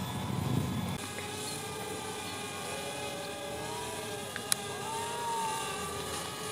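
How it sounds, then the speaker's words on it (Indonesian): A DJI Spark drone hovers overhead, its steady propeller whine and buzz droning throughout at a moderate distance, with a faint breezy background and a brief click near the middle. "Oke, drone-nya sudah di atas saya."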